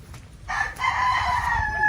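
A rooster crows loudly and close by, one drawn-out strained call over a low background rumble, among other chickens in Angat, Bulacan.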